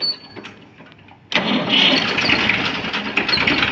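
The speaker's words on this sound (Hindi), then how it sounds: "आपको इसकी आवाज़ सुनवाते हैं ट्रैक्टर की।" A Massey Ferguson 35 tractor in good condition cranks briefly and then its engine catches and runs, a sudden loud jump into a steady rough mid-pitched running sound, close by.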